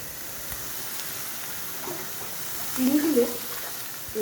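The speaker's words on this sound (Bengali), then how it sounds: "এবার এটা ভাজা হচ্ছে" Onion and garlic paste frying in a pan gives a soft continuous sizzle with light stirring, and a brief voice-like murmur rises over it midway.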